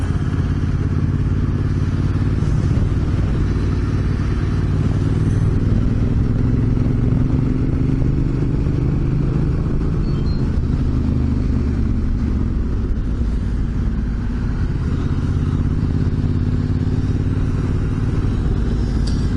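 Big motorcycles riding out of Streaky Bay toward the Gawler Ranges, a loud continuous engine rumble with wind and road noise that rises and falls gently throughout, with no voices.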